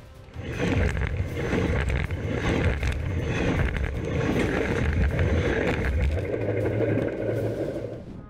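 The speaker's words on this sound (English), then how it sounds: "wind gusts under the train literally blow the camera away" Wind gusts blasting beneath a speeding train, a loud continuous roar and buffeting that stays strong throughout.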